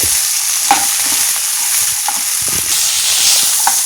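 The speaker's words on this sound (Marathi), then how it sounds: "छान फ्राय करायचं आहे तेलामध्ये. सतत हलवत राहायचे." A green pea sandwich filling fries in oil over medium gas while being stirred continuously, giving a steady loud sizzle with occasional scraping clicks of the spoon and no talk.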